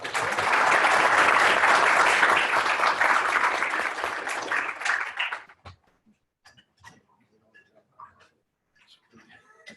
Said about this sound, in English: let's have a final round of applause for